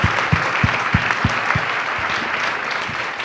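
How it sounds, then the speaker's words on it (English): A crowd at a journalists' association talk applauds, opening with a few sharp, evenly spaced close claps before blending into a steady round of clapping that holds to the end. "a big round of applause for Rabia Chaudry"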